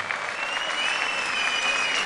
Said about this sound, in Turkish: şöyle canı gönülden bir alkış